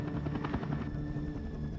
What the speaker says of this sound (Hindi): तो फिर ये हेलीकॉप्टर क्यों?